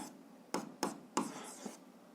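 Pen writing out an algebra solution by hand on paper: a few distinct scratchy strokes in quick succession, close and fairly quiet, with no talk.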